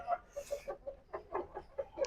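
An Aseel rooster clucks in a quick, rhythmic string of short, soft calls, fairly quiet and close, with no talk over it.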